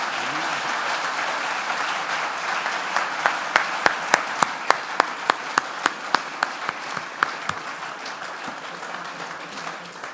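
Audience applause at a tenth-anniversary academic event in Barcelona, a dense crowd wash punctuated by many sharp individual claps close by, steady for about ten seconds before thinning.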